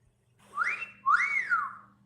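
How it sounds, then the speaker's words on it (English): A person whistles two rising-and-falling notes, a short one then a longer swooping one, clear and fairly faint over a quiet background hum. "was that you whistling at me?"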